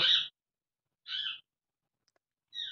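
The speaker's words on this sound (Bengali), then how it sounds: "আর আমার পাখিটা এত চিৎকার করছে আজকে" A pet bird in a home kitchen on a cold day gives three sharp, high screeches, each about a quarter second long and spaced roughly a second apart, with clear silence between them.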